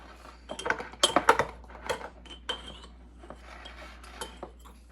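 A tablespoon stirs sourdough starter in a bowl at home, giving a run of close, irregular metallic clinks and scrapes that cluster in the first two seconds and then continue more sparsely.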